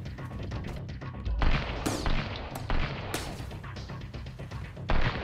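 Gunfire from a weapon in the survival game Sunkenland, with several sharp loud shots spaced irregularly over a busy, rumbling game background.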